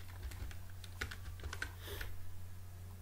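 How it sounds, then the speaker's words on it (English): Soft clicks of typing on a computer keyboard, quick irregular keystrokes heard faintly over a steady low electrical hum. "let's just type about"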